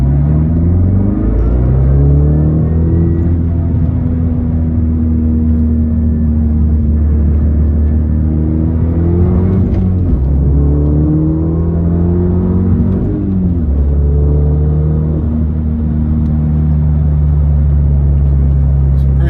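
A 2011 VW GTI Coupe's engine drones loudly and steadily from inside the cabin on a freeway, shifting pitch as it accelerates through gears, with road rumble underneath.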